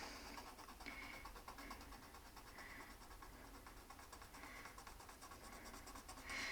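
A freshly sharpened pencil draws a solid line on a Florida license plate, giving a faint, steady scratchy rasp with repeated back-and-forth strokes, close up and alone.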